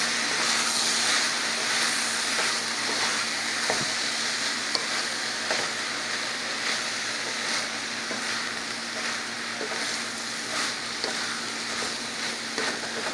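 Halved cherry tomatoes and sliced mushrooms fry in a pan, producing a steady moderate sizzle with repeated scraping stirs at a fairly even pace over the whole stretch, with no voices.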